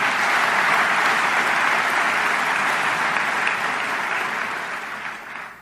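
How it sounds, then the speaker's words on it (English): Sustained applause from a conference audience, a dense wash of clapping that stays loud and even for several seconds, then gradually tapers off at the end. "a big round of applause to Colin"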